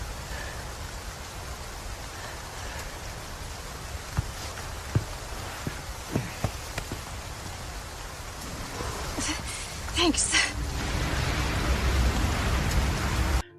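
Steady rain pours in a Resident Evil video game, a dense hiss with scattered ticks and drips that grows louder toward the end. A voice briefly speaks once over it.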